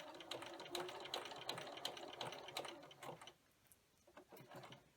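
A sewing machine stitching doll tights made from a sock, a close, fast mechanical whirring chatter of the needle running for about three seconds, then a quieter pause followed by a few slower stitches.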